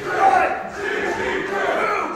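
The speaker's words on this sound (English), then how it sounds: "Winning the applause of this Hicksville crowd" Wrestling arena crowd cheering at an indie pro wrestling match, a loud, swelling roar of many voices that rises and stays sustained.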